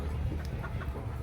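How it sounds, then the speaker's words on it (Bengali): A king-size rooster on a chicken farm gives soft, brief clucks over a steady low farmyard rumble, faint and close. "কিং সাইজের মোরগ"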